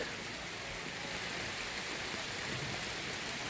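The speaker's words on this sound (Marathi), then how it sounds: "पाऊस खूप वाढला आहे, ते एकदम खूप जास्त पाऊस वाढला आहे" Heavy rain pours steadily at Ravanwadi Lake near Nagpur, a dense, constant hiss with no pauses or voices.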